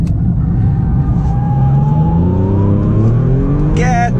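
Alfa Romeo Giulia QV engine revving up loudly close by, the pitch climbing steadily through a gear before a sharp high squeal at the end, with speech mixed in.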